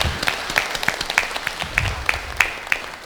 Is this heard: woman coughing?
no